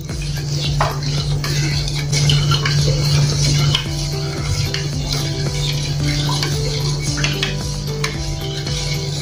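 A spoon stirs sugar into a besan (gram flour) mixture with water for halwai-style besan peda, giving a steady run of scraping and clinking against the pot over a constant low hum, close and fairly loud.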